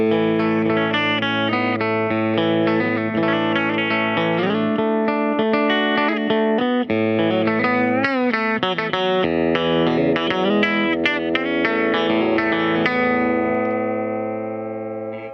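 Distorted electric guitar plays a busy, overdriven lead line with bends and quick runs, loud and continuous before ringing out at the end.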